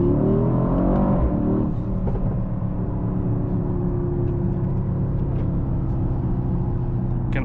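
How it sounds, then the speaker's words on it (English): A 2025 Mercedes-AMG GLE 63 S V8 SUV growls loudly and steadily as it accelerates, a low throaty rumble holding close throughout. "you have this grunt from the engine"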